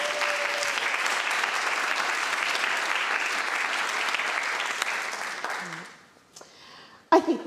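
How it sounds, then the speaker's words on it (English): An audience claps together in a sustained round of applause that holds steady for several seconds, then fades out, followed by a few scattered handling noises and a brief knock. "A round of applause, please."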